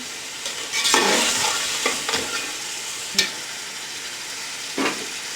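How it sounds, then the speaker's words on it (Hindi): Crushed red chili sizzles and fries in a pan of oil for chicken pulao, a steady soft hiss broken by several sharp scraping stirs of a spoon, close up with no talking. "अब हम इसे तकरीबन 2 मिनट तक हम इसको फ्राई करेंगे।"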